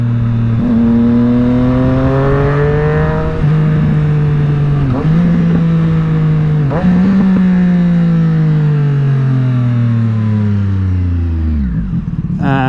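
Triumph Street Triple 765R with an SC Project exhaust revving loudly up and down at close range, its pitch sweeping and stepping, then dropping away with a few crackling pops at the end.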